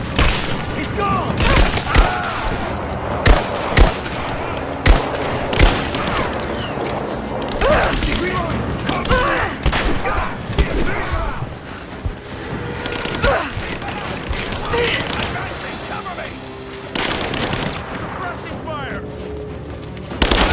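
Dense gunfire from Rise of the Tomb Raider, with sustained automatic bursts and scattered single shots and impacts running throughout, loud and continuous, while voices shout over the combat.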